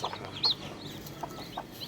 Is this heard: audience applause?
no